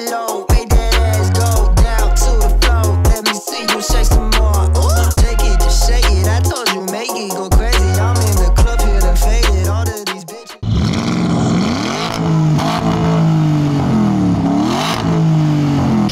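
A tuned 1980s BMW with over 600 hp races a Porsche Panamera Turbo, loud engines revving and climbing through gears with abrupt shifts and then a sustained roaring run, no talk.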